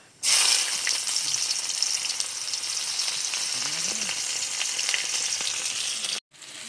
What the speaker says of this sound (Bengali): পেঁয়াজটাকে হালকা করে ভেজে নিয়েছি